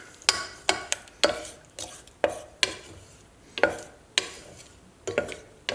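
A spoon stirs green onion gravy in a pan, scraping and tapping the metal in a steady series of sharp, close knocks roughly every half second, with no talk over it.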